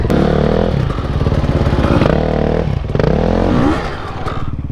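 A motorcycle engine revs and bogs in repeated rising-and-falling bursts during a failed wheelie turn, loud and close, with clattering and scraping near the end as it goes down.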